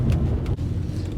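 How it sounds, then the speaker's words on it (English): Low, steady V8 rumble from a Mercedes C63 AMG while cruising, a deep continuous drone with some wind noise and a brief dip midway, no talking. "you can hear a nice subtle V8 rumble in the background"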